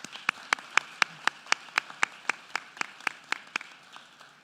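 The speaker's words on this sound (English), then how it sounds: "Let's give him another round of applause." A single person's sharp, evenly spaced claps, about a dozen in a row, close and clear, slowing and fading at the end, during a public education address event.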